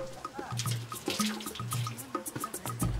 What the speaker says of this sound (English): Water is added to the copper sulfate.